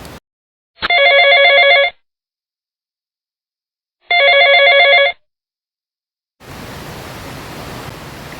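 A telephone bell rings in two separate electronic bursts about three seconds apart, loud and close, with silence between them. A hiss of broadband noise follows.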